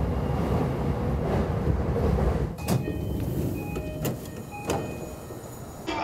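Inside a train waiting at its starting station in Tokyo, a low rumble gives way to sliding doors and rail carriage sounds, with sharp clicks and thin electronic tones.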